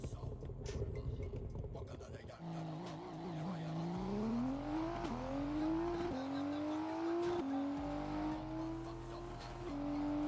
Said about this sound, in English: Right now I'm driving an Audi R5, I believe, SF5 or something like that.